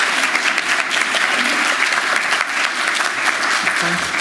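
Colleagues at a colorectal health session applaud a presenter's progress, a loud, sustained round of clapping from a roomful of people with faint voices underneath.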